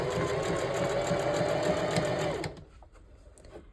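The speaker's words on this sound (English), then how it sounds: "you are going to take your track and place it and then sew" A sewing machine stitches track onto a mesh dome cap, its rapid, even needle chatter running loud and close for a couple of seconds before stopping abruptly, leaving quiet room tone with a few soft handling clicks.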